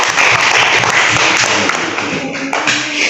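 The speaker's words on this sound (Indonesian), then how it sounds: "Tepuk tangan dulu." Audience in a classroom session applauding, a dense burst of close hand clapping that fills the space, then thins slightly toward the end.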